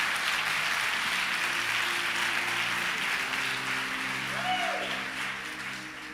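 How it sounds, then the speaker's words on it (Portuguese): A church congregation applauds for Jesus at Igreja Conviva, a broad wash of clapping with a sustained musical tone underneath that fades slightly toward the end. "Você pode aplaudir Jesus por isso?"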